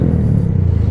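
A mini bike engine, a Kawasaki Z125 or Honda Grom, is revved hard in one short burst, a loud, close, steady roar heard alone with no talk over it.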